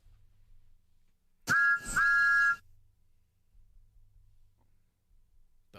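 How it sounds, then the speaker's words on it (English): A Thomas the Tank Engine whistle sound effect fires from a stream deck as two short, bright, loud toots in quick succession, then quiet room tone with faint low hum follows. "The Thomas the Tank Engine whistle."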